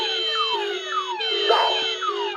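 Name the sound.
model train car alarms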